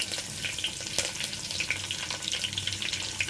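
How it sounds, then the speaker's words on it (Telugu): Tempering spices sizzle in hot oil inside a pressure cooker, a steady crackling fry with sharp spitting pops scattered throughout, close and fairly loud. "ఇందులో ఇప్పుడు పోపు దినుసులు అయితే వేసుకోవాలి"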